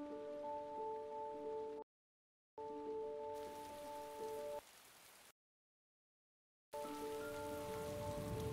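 Heavy rain falls in the video game Heavy Rain, a steady hiss under sustained musical tones, broken by two abrupt silent gaps and a quieter stretch between them.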